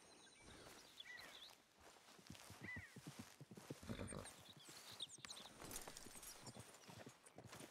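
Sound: horse hooves walking in the video game Red Dead Redemption 2

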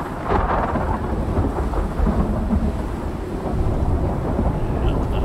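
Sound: thunderstorm in the video game Icarus

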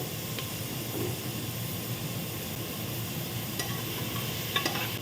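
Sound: tomatoes frying with onions in pressure cooker

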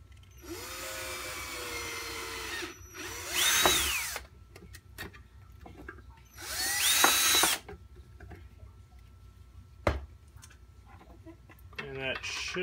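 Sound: power drill drilling a hole in a stir plate

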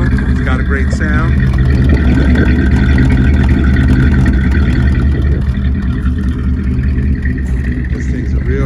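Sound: 1946 Ford Deluxe engine running

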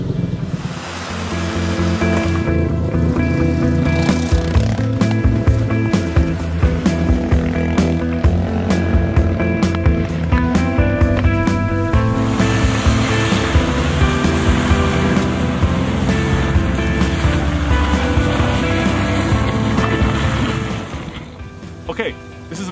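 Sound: crossover SUV climbing dirt hill trail in two-wheel drive

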